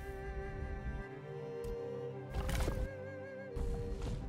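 A horse neighs amid the steady background music and ambience of the strategy game Total War: Three Kingdoms, with a couple of louder bursts standing out over the continuous game sound.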